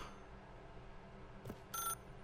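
A telephone rings faintly in The Stanley Parable, a short electronic trill near the end after a brief click, over a quiet, near-silent background.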